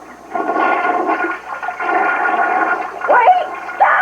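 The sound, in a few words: toilet flushing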